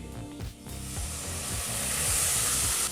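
Finely chopped tomatoes fry in a hot pan with spice powders for tomato rice, giving a continuous close hiss and sizzle that grows brighter, with a few soft scraping knocks early on.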